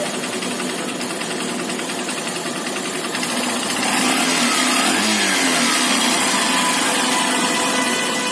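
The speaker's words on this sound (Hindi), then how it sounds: "देखिए, इसका आरपीएम कभी हाई हो जा रहा है, कभी लो हो जा रहा है।" A Honda Shine motorcycle engine with an unstable idle runs close by, its buzzing drone holding steady before swelling higher partway through.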